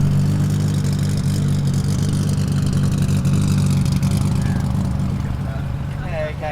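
A deep, rumbling straight-piped big-turbo Mk4 Toyota Supra engine revs and idles loudly up close, its throaty exhaust droning continuously with a faint voice near the end.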